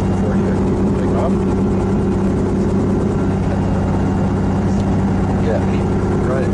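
A helicopter engine runs steadily before takeoff, a constant loud low hum with harmonic drone filling the whole stretch, close by, with no clear change in pitch.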